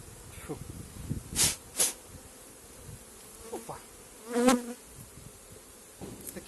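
Honey bees buzz in brief loud bursts as they fly close past, with a steady faint hum and rustling between passes.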